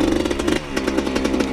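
Dirt bike engine on a project build revving hard at a hole shot start, a loud, close, raspy two-stroke-like buzz with rapid pulsing throttle blips and a brief dip midway, no talk.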